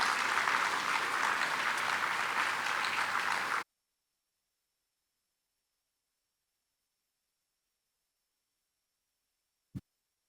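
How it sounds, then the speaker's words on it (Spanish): Applause from a conference audience welcoming a speaker, a dense steady clapping for about three and a half seconds that cuts off abruptly, followed by silence and one brief thump. "Acolhemos com uma salva de palmas."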